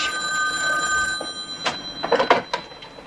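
A telephone bell rings in a domestic sitcom scene, a bright electronic trill followed by a few sharp bursts, with faint rustling and movement.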